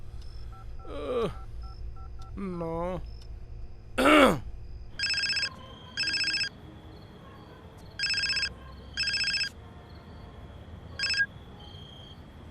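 A few short vocal sounds come first, then a telephone keypad beeps out a quick run of dial tones. Several evenly spaced ringing bursts follow, clear and close.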